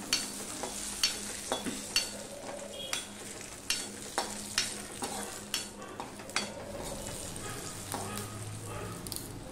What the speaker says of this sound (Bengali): এই পাঁচফোড়ন আর তেজপাতার ফোড়নটা কিন্তু ভালো করে হতে হবে।